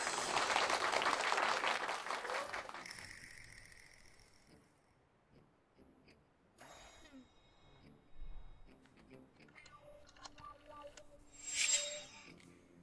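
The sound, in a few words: applause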